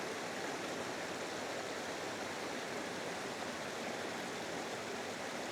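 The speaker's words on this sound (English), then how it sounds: "I just found a little rapid, a little bit further up the creek." Water rushes over a small rapid in a creek, producing a steady, dense broadband roar that holds constant throughout with no breaks.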